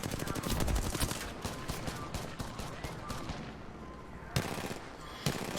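Rapid automatic gunfire from an Xbox shooter game, dense bursts rattling continuously for several seconds with a couple of sharp louder shots near the end.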